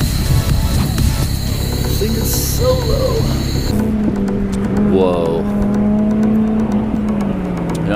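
A race-spec Toyota 86 race car engine revs and hums loudly and close by at a racetrack, the sustained engine drone shifting pitch, with people talking over it.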